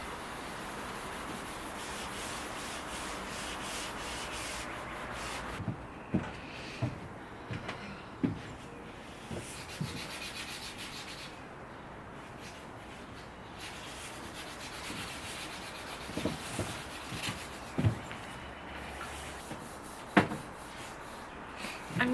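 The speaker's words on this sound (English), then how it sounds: "I'm just wiping down the surface to get any excess oil" Cloth wiping excess teak oil off the surface of a Domino Mobler teak desk, a soft steady rubbing with brief light knocks and scuffs partway through, close and quiet with no talk.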